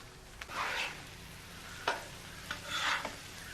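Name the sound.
ground beef browning on a griddle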